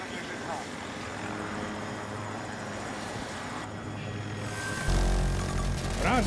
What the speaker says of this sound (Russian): Вертолет отмечен.